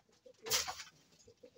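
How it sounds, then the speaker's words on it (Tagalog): A racing pigeon coos once up close, a soft throaty burst of cooing amid faint rustling. "Ang ibon natin na si Katarman, hindi mo na siya lalabas."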